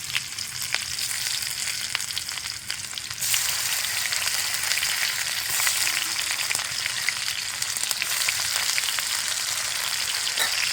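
Chopped onion and cumin seeds fry in hot oil for a chicken dish, a loud, close, steady sizzle that swells and intensifies partway through as the onion is stirred.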